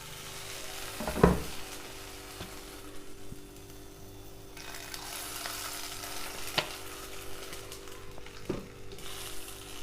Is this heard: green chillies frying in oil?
yes